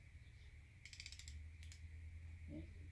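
An inch-pound torque wrench tightens a timing chain tensioner on a Quad 4 engine, giving a few quiet ratcheting clicks in short bursts over a low background hum.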